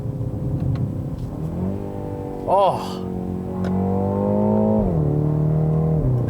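A 2020 BMW X2 M35i engine revs and holds a steady drone that climbs in pitch, dips, then rises again with a strong, close rumble, while someone lets out a brief exclamation midway.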